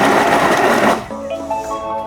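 A Thermomix chops tomatoes at speed 5, a loud dense whirring burst for about a second that cuts off abruptly, leaving a quieter ringing hum as the blades wind down.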